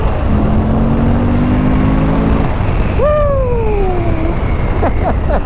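A twin-cylinder motorcycle engine rising and falling in pitch as it revs over a wet road, loud and close, with a steady wash of wind and road noise throughout.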